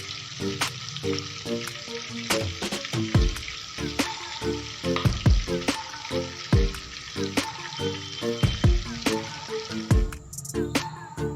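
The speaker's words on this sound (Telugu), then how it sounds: "మళ్ళీ సేమ్ ఇందాకలాగే గోల్డ్ కలర్ వచ్చేదాకా ఫ్రై చేసుకోవాలి." Prawn pakodi pieces frying in hot oil, a continuous crackling sizzle punctuated by sharp clinks and scrapes of a utensil against the pan, with no voices.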